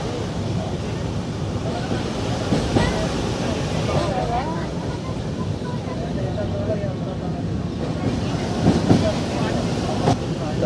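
A train crossing the Farakka bridge rumbles steadily with a broad, continuous roar and faint rhythmic clatter, close and loud, with rushing water below and a voice talking over it.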